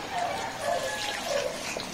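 Pig's blood poured slowly into a cooking pot while making pork dinuguan, a soft, continuous liquid trickle that runs steadily for about two seconds at low, close range.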